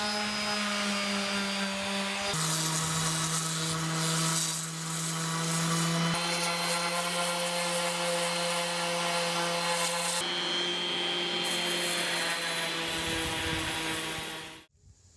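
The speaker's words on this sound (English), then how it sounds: "we'd sand the final little bit of stain just enough to reveal the white gel coat beneath" A power sander working stain off a small sailboat's fiberglass hull down to white gel coat, a loud steady whine with shifting pitch that runs continuously before cutting off near the end.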